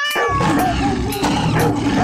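An anime character's voice imitates a cat, drawing out two or three whiny, high meows in quick succession, loud and close, with some voice-like character throughout.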